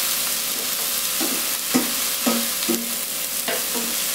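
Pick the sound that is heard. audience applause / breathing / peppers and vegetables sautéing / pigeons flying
peppers and vegetables sautéing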